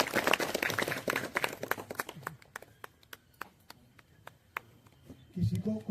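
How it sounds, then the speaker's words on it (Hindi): An audience claps for an NSG dog training demonstration with the dogs and their handlers: a dense burst of applause gives way to scattered single claps, with voices murmuring underneath. "मैं आप सभी से अनुरोध करूंगा कि एक बार ताली बजाकर इन मुख्य योद्धाओं का हौसला बढ़ाएं।"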